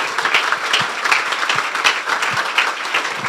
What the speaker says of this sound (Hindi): यीशु के जलाल के लिए जोरदार तालियां।